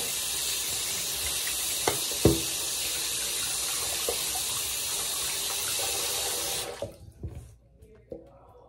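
Tap water running steadily into a sink while a water bottle is washed, a continuous close hiss with a few knocks and clunks, then the flow shuts off near the end, leaving quiet handling noises.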